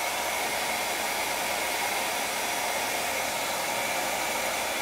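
A ghd Air hair dryer runs continuously on its medium heat setting, producing a steady, close, loud airy whoosh with a faint motor whine and no change in level.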